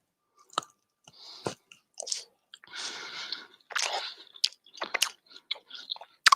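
Steak and chicken chewed close to the mic in a mukbang, wet crunching and squishy mastication in irregular bursts with smacking bites and short pauses.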